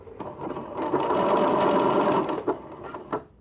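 A sewing machine runs steadily, stitching two pieces of fabric along the edge with the needle down, a loud close whirring burst of rapid stitches that slows and stops with a few final clicks.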